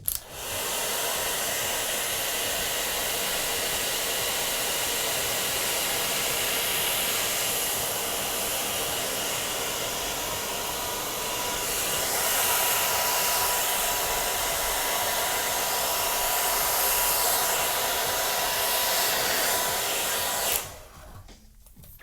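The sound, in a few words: hair dryer blowing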